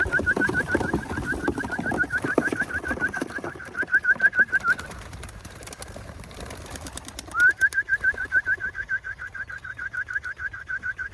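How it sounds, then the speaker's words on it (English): Homing pigeons in a loft coo steadily in a close, repeated rhythmic warble, with a pause midway before the cooing resumes, shortly before the birds are released to fly. "Birds have been sitting for a while. We are gonna go ahead and turn them loose."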